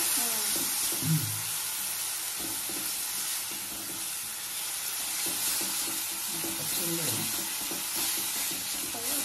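Fish fries in oil in a pan, giving a steady, close sizzle and hiss that runs through the whole stretch, with a faint voice occasionally underneath.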